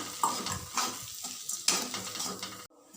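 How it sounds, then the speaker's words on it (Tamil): Raw banana sautés lightly in a pan with a little oil, giving a soft steady sizzle broken by several scraping stirs of a spoon, close and fairly quiet, with no talking. "தேவைப்பட்டால் கொஞ்சமாக எண்ணெய் கூட ஊற்றி லைட்டாக வதக்கி விட்டுக்கலாம்"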